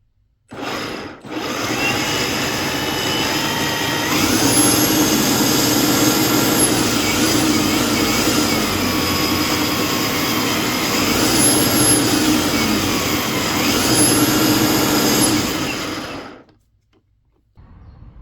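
An EGO DA1400 electric lawn dethatcher starts with a quick spin-up, then runs for about fifteen seconds as a loud, steady motor whine with whirring tines, pitch briefly rising a few times, before winding down to quiet.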